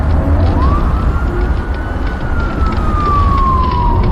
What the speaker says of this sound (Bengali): একটু আগেই একটা সাইরেনের শব্দ পেয়েছি